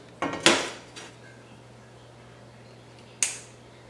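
A large metal cooking pot clanks and scrapes as it is handled in a home kitchen, with two close metallic knocks near the start, a faint rattle, and one more sharp clank near the end, with no voices.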